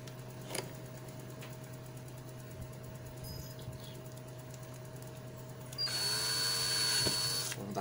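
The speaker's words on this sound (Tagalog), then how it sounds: "Kaya dito naman tayo magbubutas ngayon sa kabila." A power drill bores a hole through the plastic casing of a Chuwi LapBook Pro laptop during a hinge repair mod: a loud, steady whine of about two seconds rises near the end over a quiet room hum, with a few faint clicks before it.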